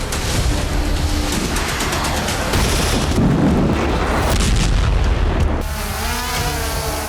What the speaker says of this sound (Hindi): फ्रंट लाइन पर MiG-29 ने हैमर बमों की बरसात भी की